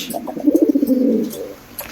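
A pair of black Danish pigeons give one soft, close coo lasting about a second, with a short quiet flutter of sound afterward.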